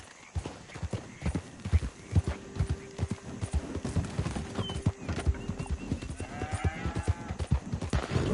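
Horse hooves gallop in Red Dead Redemption 2 with a steady, close clip-clop rhythm and a brief whinny partway through.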